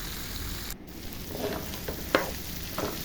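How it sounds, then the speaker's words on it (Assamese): Eggplant pieces and fish frying together in a pan, stirred and turned, with a steady close sizzle and a few sharp scraping strokes of the spatula. "এতিয়া এইখিনি লৰাই বগৰাই অলপ সময় সিজিবলৈ দিম।"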